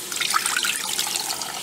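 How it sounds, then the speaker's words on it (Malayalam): Water poured into a pan of jaggery to melt it for Kerala-style black halwa, a close, steady splashing trickle running throughout at moderate loudness with no talking. "നമുക്ക് കുറച്ച് വെള്ളം ഒഴിച്ചിട്ട് ഇത്"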